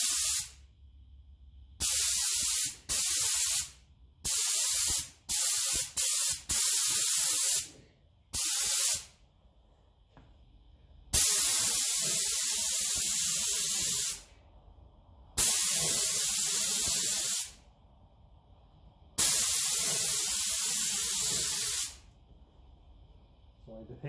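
A spray gun fed by a compressor at 100 psi paints Massey Ferguson 35 tractor parts in repeated loud hissing bursts, short ones early and longer sustained passes later, with quiet gaps between.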